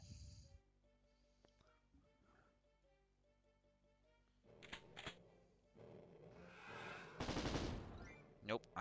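Gunfire in the 1993 shooter Doom: a few sharp, loud bursts of shots crack out in the second half over steady game music, with a longer, heavier burst near the end.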